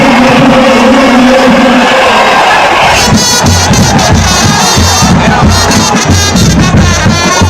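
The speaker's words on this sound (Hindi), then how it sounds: "ये लोगों की भीड़ चिन्नास्वामी स्टेडियम के बाहर थी।" A dense crowd roars and shouts outside Chinnaswamy Stadium, a loud continuous mass of voices, joined midway by rhythmic chanting or clapping bursts.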